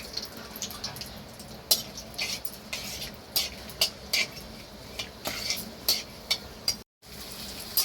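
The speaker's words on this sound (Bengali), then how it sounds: "3টে দারচিনি, 3টে ছোট এলাচ আর 4-5টা লবঙ্গ দিয়ে হালকা করে একটু ভেজে নেব।" A bay leaf, cinnamon sticks, small cardamom and cloves frying in a pan for mixed fried rice, with a spatula clinking and scraping in irregular strokes over a faint sizzle.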